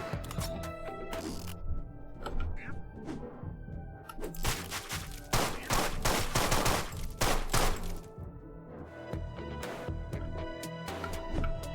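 Bursts of gunfire from the Deadbolt video game crackle in rapid volleys, growing denser and louder in the middle before easing off, with scattered impacts between.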